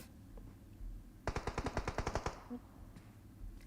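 Rapid burst of automatic gunfire in the mobile battle-royale game PUBG Mobile, about ten sharp evenly spaced shots over roughly a second, loud and close, followed by quieter game sounds.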